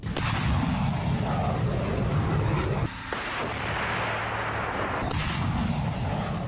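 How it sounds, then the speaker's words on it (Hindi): M142 rocket artillery system launching missiles, a loud sustained roaring blast that fills the whole clip with a brief dip midway, no speech. "ये एक ऐसा हथियार है जो एक साथ कई मिसाइलें दागने की ताकत रखता है"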